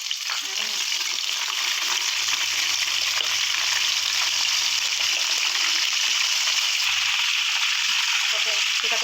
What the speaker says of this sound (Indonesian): selanjutnya jangan lupa kita goreng terongnya ya teman-teman ya